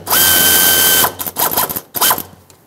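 8mm socket ratchet loosening fuel hose clamps on a 1999-2007 Ford F-350 7.3L Powerstroke, a second of continuous close ratcheting followed by a few short, sharp clicking bursts with brief pauses between them.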